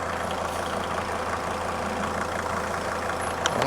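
A Mercedes 310D campervan diesel engine idles quietly in the background while warming up, a low steady rumble with a faint rattle, alone without talking.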